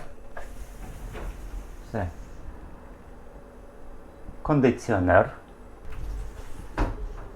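Sliding mesh and glass balcony doors in a Thailand apartment rumble and knock as they are moved and latched, with a short clatter of the lock near the middle, heard close up between bursts of talking.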